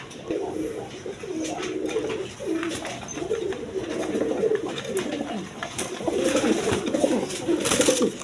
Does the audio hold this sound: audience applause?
no